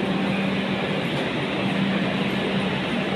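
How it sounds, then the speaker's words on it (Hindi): The Jan Shatabdi Express, an Indian Railways train, at a station, heard as a loud, continuous rumbling roar with a low steady hum and no pauses. "So guys, this is our train, Jan Shatabdi Express."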